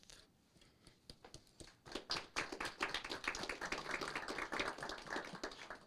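A city council meeting breaks into applause, scattered claps at first swelling into steady, dense clapping from a modest crowd in a chamber, fairly close and sustained, with no talking over it.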